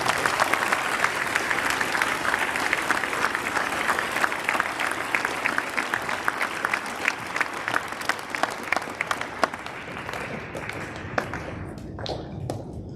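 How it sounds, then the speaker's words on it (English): A crowd at a high school Veterans Day assembly applauds at length, sustained dense clapping that thins into a few scattered claps toward the end. "Please join me in a round of applause for the intended commitment shown by Sam and Keegan."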